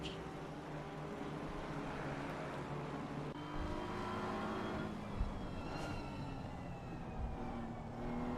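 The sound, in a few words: race cars accelerating, Lexus and BMW GT3, ACC video game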